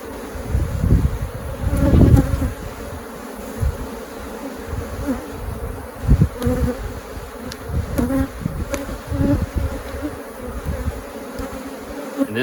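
Honeybees buzzing densely around an open hive being split into a walkaway colony, a continuous close drone with swells and occasional frame knocks and handling thumps.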